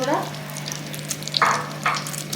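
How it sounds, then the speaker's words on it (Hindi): Beef nargisi kebabs frying in hot oil, a soft continuous sizzle with a few brighter bursts as pieces are turned, close and moderate, with a steady low hum underneath. "इस तरीके से करते हुए मैं अपने सारे कबाब को फ्राई कर लेती हूँ"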